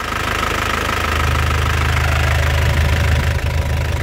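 A black 2016 Isuzu Panther LS turbo diesel engine idles steadily and loud throughout, with a rough, knocking low rumble and a constant mechanical hum, no talk.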